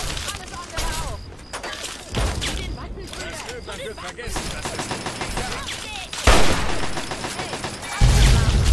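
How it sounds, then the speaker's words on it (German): Explosions and rapid bursts of gunfire from the video game Fallout 3 come loud and dense, with booming hits standing out near the middle and the end. "Wow, nochmal so eine Explosion."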